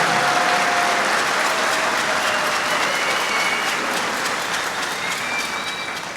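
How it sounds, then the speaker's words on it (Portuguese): Loud, dense audience applause fills the room in a continuous wash of clapping, holding strong throughout and easing slightly toward the end. "Give them a hand."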